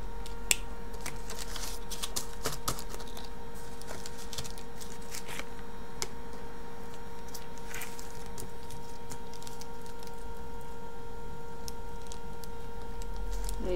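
Paper being trimmed to size for small toilet paper roll journals, heard as soft scattered snips and rustles over a steady low hum, close and fairly quiet, with no talking.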